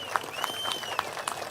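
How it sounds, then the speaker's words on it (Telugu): A crowd claps at a political public speech in Amaravati, a brief, fairly faint patter of applause with scattered sharper claps. "గట్టిగా చప్పట్లు కొట్టి అభినందించండి."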